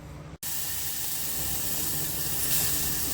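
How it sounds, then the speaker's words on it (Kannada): Onion and tomato fry in a pan for homemade baby food, giving a steady, even sizzle that starts after a brief gap and holds without pause. "ಈರುಳ್ಳಿ ಟೊಮೆಟೊ ಹಾಕಿ ನೀಟಾಗಿ ಫ್ರೈ ಮಾಡ್ಕೋಬೇಕು."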